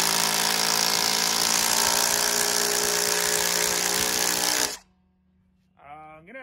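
Ryobi and Dewalt impact drivers drive lag bolts into wood with a loud, continuous buzzing whir that cuts off abruptly, followed by a short pause and a brief tonal sound.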